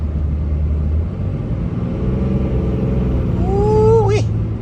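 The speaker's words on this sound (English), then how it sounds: "you can hear the turbo whistle now" Diesel pickup truck fitted with a Banks Monster Ram elbow driving along, a rumbling engine under which a rising turbo whistle appears near the end, sweeping upward and then abruptly cutting off.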